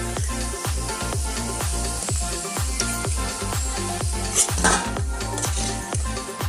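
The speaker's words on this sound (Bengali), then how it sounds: "বাকি সয়াবিনগুলোকেও একইভাবে ভেজে নিচ্ছি" Steady sizzling of soya chunks frying in hot oil, with a regular rhythmic scraping of a spatula stirring in the pan, close and continuous.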